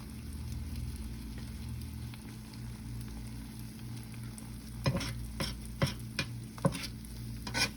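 Eggs frying in butter in a pan on a stovetop, a steady soft sizzle with several sharper stirring or scraping clicks toward the end, no talking.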